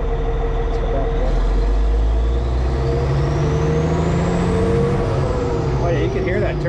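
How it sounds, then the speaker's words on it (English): A Caterpillar 657E scraper with a C18 engine runs loud and close, its deep steady drone rising with a turbo whine, while a voice talks underneath. "you can hear that turbo bark"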